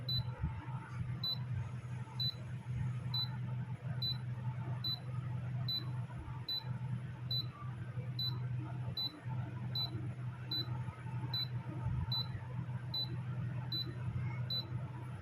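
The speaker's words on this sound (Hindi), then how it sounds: "C9 पर हमारा लॉन्ग बीप कर रहा है।" Daikin split AC unit sounding a repeating short beep for a C9 error, regular high tone about every 0.6 seconds, steady over a loud continuous low hum.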